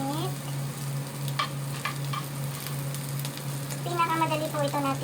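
Luncheon meat and garlic fry in a pan for fried rice, a continuous close sizzle with a few scraping stirs and a steady low hum beneath, and a brief voice near the end.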